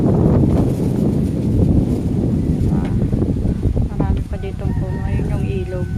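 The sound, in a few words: strong wind blowing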